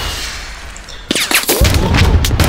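Gunfire poured onto an enemy position in the trench-warfare game Trench Warfare: after a quiet second, a rapid burst of loud, sharp shots cracks out close by, followed by a rumbling volley.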